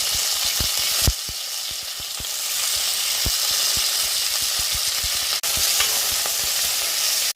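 Green chillies, shallots and curry leaves sizzle loudly in hot oil for a pumpkin curry, a steady close crackle with repeated sharp taps from stirring throughout.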